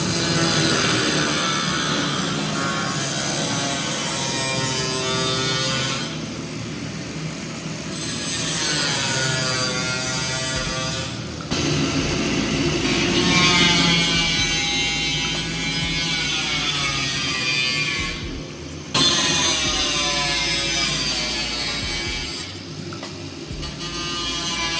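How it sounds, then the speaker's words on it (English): An angle grinder cuts the quarter panels off a Nissan 350Z drift car. It gives a loud, harsh, sustained whine that drops briefly in several places as the cut pauses and bites again. "We've got the angle grinder and Pops. He's just gonna chop it off."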